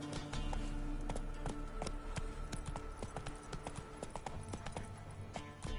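Roach's hooves clip-clopping as Geralt rides in The Witcher 3, a steady rapid beat of close, crisp hoof strikes continuing throughout.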